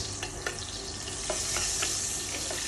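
Onion browning in a pan for a poultry dish with confit onion, a steady close sizzle broken by a few sharp clicks of stirring, no voices.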